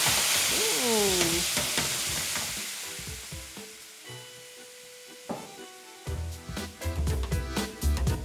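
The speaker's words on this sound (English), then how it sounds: "A quick deglaze with some white wine, if you have it, to pull all of those tasty beef droppings off of the bottom of the pan." A pan of browned beef deglazed with white wine, sizzling and bubbling loudly at first, then settling before irregular scraping and clattering bursts, with background music playing.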